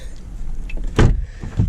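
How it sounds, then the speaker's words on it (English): Door of a Lamborghini Aventador swinging shut with a single solid thump near the mic, followed by a softer second knock, against a low idling background. "now to close the door"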